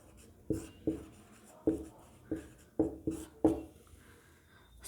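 Marker or chalk strokes on a classroom board during a Hindi grammar lesson, six or seven short tapping scratches at uneven intervals, close and fairly quiet, with no talking.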